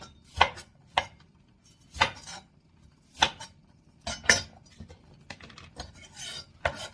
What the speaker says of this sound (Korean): 이런 식으로 양파를 썰어줍니다.